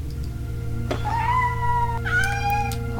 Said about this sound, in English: Oh my god, cat, shut up.